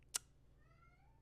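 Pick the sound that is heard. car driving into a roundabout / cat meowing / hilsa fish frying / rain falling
cat meowing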